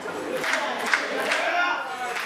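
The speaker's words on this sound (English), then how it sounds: "Crowd getting behind Montero." Wrestling crowd at an RWA Hype Championship match between JT Dunn and Mike Montero, a steady roar of cheering and shouting that fills the room with no lulls and one brief spike near the middle.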